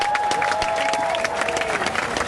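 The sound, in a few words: crowd applauding at hostages' square rally in Tel Aviv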